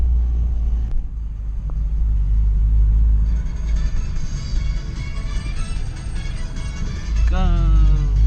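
A Honda Fit fitted with an MFactory 4.928 final drive cruises with a deep, steady engine rumble, joined by a rising rev toward the end as another Fit drives alongside.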